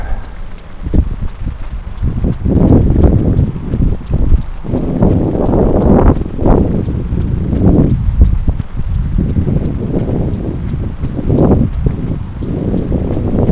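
Gusty wind buffets the microphone while a scrap foam model plane is flown over long grass, rumbling and surging continuously and loud throughout.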